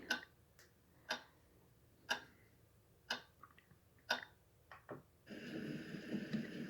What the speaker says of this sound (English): Ticking clock.